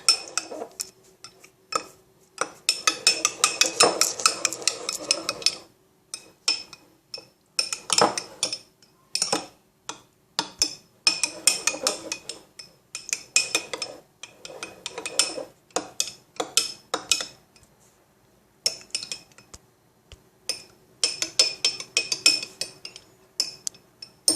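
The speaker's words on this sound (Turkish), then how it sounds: "Şimdi karıştırıyoruz." A utensil clinks and scrapes around a container while ayran, a yogurt drink, is stirred, coming in repeated bursts of quick metallic chinks separated by short pauses, close and fairly clear.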